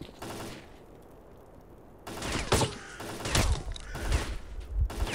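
Enemy gunfire in S.T.A.L.K.E.R. Clear Sky: after a quiet ambient stretch, a series of loud, close shots and rattling bursts breaks out and repeats irregularly through the rest of the moment.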